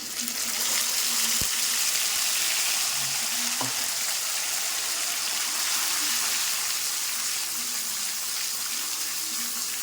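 Spice paste frying in hot oil after a tempering with dried red chilli, for a vegetarian green jackfruit curry; a loud, steady, close sizzle runs throughout, with a couple of brief clicks.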